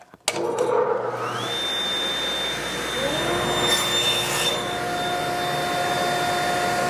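A saw runs steadily through wood cutting half-inch spaced slots for a kumiko lamp panel, a continuous loud whining buzz with a rising motor tone, alone without talk.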